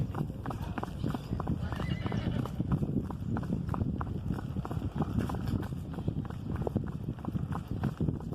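A horse walks with a steady clip-clop of hooves close by and neighs, the hoofbeats continuing in an irregular rhythm throughout.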